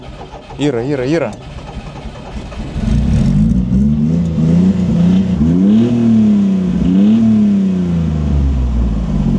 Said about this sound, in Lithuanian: Nu, bandom, kažkaip užkuriam ir važiuojam į mišką.